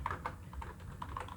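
Code being typed on a computer keyboard for a data structures lesson, a quick uneven run of soft key taps over low background hum.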